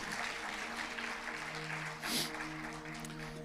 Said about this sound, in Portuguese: Dê um aplauso bem forte ao Senhor e creia nisso.